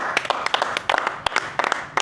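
Audience applause at a live comedy show, with many hands clapping in a dense, crackling patter that comes and goes with sharp bursts for about two seconds.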